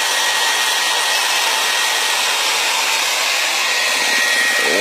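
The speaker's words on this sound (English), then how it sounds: "The hair dryer is still running." A hair dryer running continuously beside a plasma generator heater test, a loud, steady blowing whoosh close by with no other sounds.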